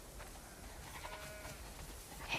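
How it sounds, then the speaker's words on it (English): Sheep bleat in The Last of Us over steady ambient game noise, several moderately loud calls spread through the stretch with no talking. "We definitely have way too many sheep."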